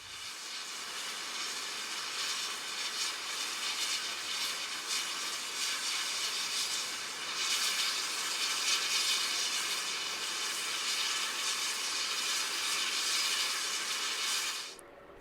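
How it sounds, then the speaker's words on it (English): Continuous loud hissing of steam escaping under pressure from Santa Fe steam locomotive 3751, steady and broad for the whole stretch before cutting off abruptly at the end. "the steam engine has built up some pressure and seems to have come to life."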